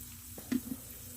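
Colorful pancake batter fries in oil in a pan with a quiet, steady sizzle, broken by a couple of soft taps close by.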